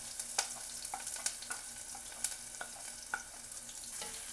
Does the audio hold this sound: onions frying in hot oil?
yes